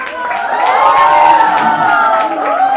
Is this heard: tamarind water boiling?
no